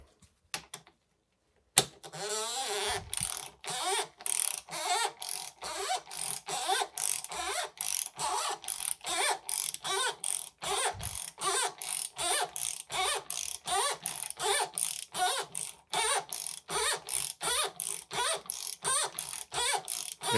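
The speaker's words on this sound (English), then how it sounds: "we're going to grab our 26 millimeter" Ratchet turning a 26 mm socket on a 2019 Fox Rhythm 34 Float fork with a GRIP damper gives a long run of rapid, evenly spaced metallic clicks, close and crisp, in quick repeated strokes after a short pause.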